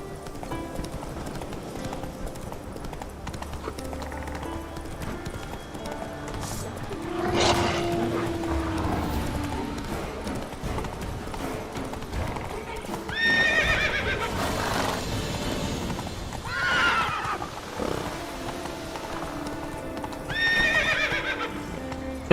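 A horse in The Witcher 3 gallops with steady clip-clop hoofbeats, breaking into several loud, shrill neighs and whinnies as the run goes on.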